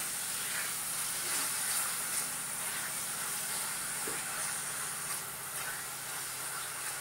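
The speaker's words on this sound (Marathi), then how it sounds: "तर छान आपण आता हे परतून घेऊया।" Jaggery sautéed in a pan over a low flame gives off a steady, broad sizzling hiss that stays even and continuous throughout, with no voices.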